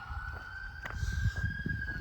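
Ambulance siren on a road, a faint steady tone in the distance behind outdoor wind and movement noise.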